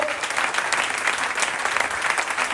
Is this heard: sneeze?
no